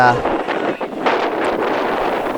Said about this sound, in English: man, that wind is really going